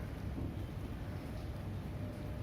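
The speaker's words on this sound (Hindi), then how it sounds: "इस समय हल्की हल्की फुहार पड़ रही है" Light rain falls steadily in Delhi at night, a soft continuous hiss and patter with a low rumbling wash underneath and no voices.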